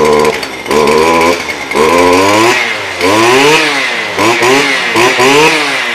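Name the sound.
STIHL FS 250 brush cutter engine revving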